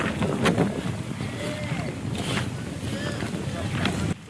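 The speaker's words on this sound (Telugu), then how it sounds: "గాలి అయితే విపరీతంగా తోలుతుంది గైస్." Strong wind roars across an outdoor house-building site, a loud, continuous buffeting rush with gusts thumping the microphone, then it cuts off abruptly near the end.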